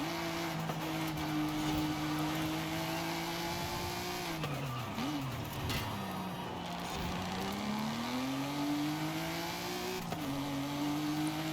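Car engine in Forza Horizon 5 revving and accelerating steadily and loudly throughout, with pitch climbing, dropping at gear shifts and rising again, plus brief tire noise; no talking.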